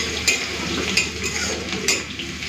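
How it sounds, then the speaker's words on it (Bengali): Crushed garlic fries in a hot pan with oil and whole spices, a steady sizzle broken by a few sharp clinks of a spoon scraping and stirring. "এই সময় আমি দিয়ে দেবো থেঁতো করা রসুন।"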